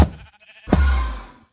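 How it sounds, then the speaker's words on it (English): A Minecraft sheep gives two bleats, a short one followed by a louder, drawn-out wavering bleat as it dies, heard close and alone. "And now there's a sheep dying without anybody watching."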